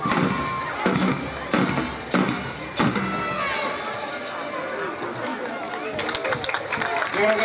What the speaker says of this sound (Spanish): Brindémosle fuertes aplausos al Centro de Educación Básica Integral Renacimiento.